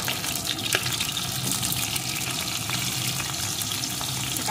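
Carrot pieces frying in oil alongside potato and cauliflower for vegetable khichdi, a constant close hissing sizzle with scattered crackles and no talk.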